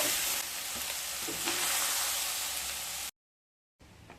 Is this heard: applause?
no